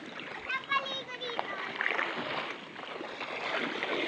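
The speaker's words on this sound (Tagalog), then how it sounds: "Yan po mga idol, tumatawid na po kami ng ilog mga idol." People, including children, wade across a river on the trail to Baawan Falls, with splashing water and a rushing stream beneath lively talk and children's voices.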